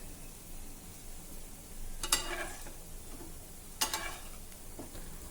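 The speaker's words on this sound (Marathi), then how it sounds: "दोन्ही बाजूनी पलटून पलटून मध्यम ते मंद आचेवर आता हे कटलेट आपण छान भाजून घेऊ." Cutlets frying on a tawa griddle over medium-low heat, a steady soft sizzle with two brief scraping clatters as they are turned.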